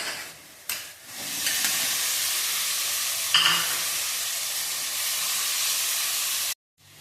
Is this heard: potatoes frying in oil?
yes